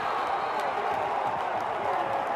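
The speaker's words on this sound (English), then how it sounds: "That lights up the crowd here at Coop." A college lacrosse crowd at Georgetown versus Yale roars steadily after a goal, a dense, loud wash of cheering voices and noise filling the arena without a break.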